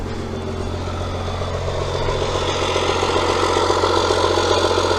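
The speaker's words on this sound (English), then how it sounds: "for sure sounds like a Cummins, that's for sure." A warmed-up Cummins 12-valve diesel in a pickup truck idles close by with a steady, rough, knocking rumble that grows slightly louder partway through and holds even, with no voices.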